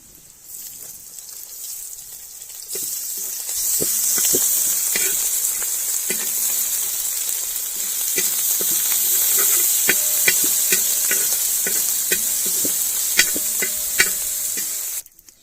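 Crushed ginger frying in a pan for a rabbit Pallipalayam dish, a steady bright sizzle with repeated clinks and scrapes of stirring close by throughout, no talk.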